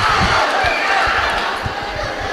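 A boxing arena crowd roars and cheers loudly and continuously through a round between Regie Suganob and Kai Ishizawa, with shouts rising out of the dense crowd noise.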